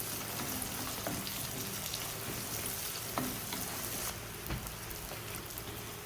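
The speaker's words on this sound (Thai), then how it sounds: "ผัดให้หอมพอสุกนะคะ ผัดไปเรื่อยๆค่ะ" Ingredients for a Thai spinach curry stir-fried in a pan, a steady close hiss of frying with scattered spatula scrapes and crackles running throughout, no talking.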